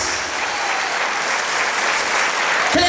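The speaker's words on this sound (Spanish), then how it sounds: "Dale un aplauso a Jesús." A church congregation breaks into strong, continuous applause during a sermon, a dense clapping roar that holds steady and swells slightly before a brief shift at the very end.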